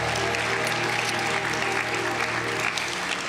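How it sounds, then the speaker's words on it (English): An audience at a celebration gives scholarship students a full round of applause, sustained and dense, filling the hall with steady clapping alongside a low background hum. "Let's give all of our students another round of applause."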